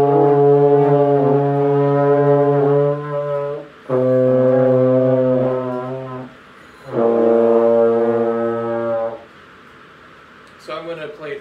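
Trombone held on a low D in 4th position, three long sustained brassy tones separated by short breaths, played loud and close, with brief talking at the end.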